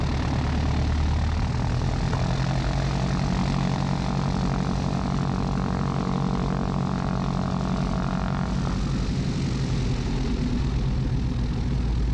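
A Piper Seneca PA-34 twin-engine airplane takes off from North Perry runway 10 right, its propeller engines droning loud and steady from inside the cabin with a shift in tone near the end.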